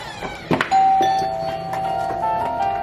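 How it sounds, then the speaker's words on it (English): A doorbell rings and plays a Christmas tune, a sustained electronic melody of clear tones that follows a couple of knocks and carries on over a faint room background. "Go listen to it when you ring the doorbell."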